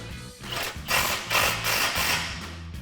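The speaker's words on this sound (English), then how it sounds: "now you can tighten it down with your 18mm wrench and your 15mm socket" Steady mechanical clicking and grinding of an 18mm wrench and 15mm socket ratchet tightening a nut on a 2011-2023 rear-wheel-drive Dodge Charger coil-over install, close and continuous in several bursts.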